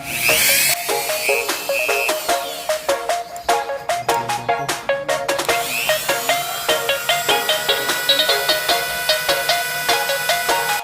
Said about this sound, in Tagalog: So hand drill.